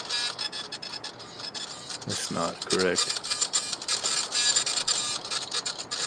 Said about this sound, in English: I think he has printer noises going.